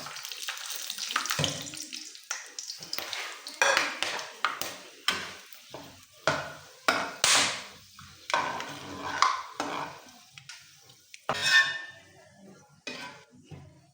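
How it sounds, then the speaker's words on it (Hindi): Whole spices frying in hot oil in a pan, bursts of crackling and sizzle rising and fading in repeated waves, with stirring clatter and a sharp metallic ping near the end. "तेल के गर्म होने के बाद हम इसमें तमाम खड़े मसाले शामिल करेंगे और इनको फ्राई करेंगे"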